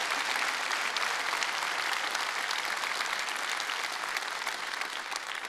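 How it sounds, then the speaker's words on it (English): Sustained, dense applause from a large keynote audience at EVE Online FanFest, steady and even throughout, heard from within the hall at moderate level. "Give him some applause."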